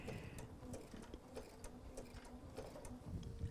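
A sewing machine stitches appliqué fabric in a steady, fast mechanical patter, close and fairly quiet, running continuously without speech.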